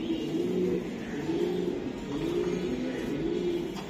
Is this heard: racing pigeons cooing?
yes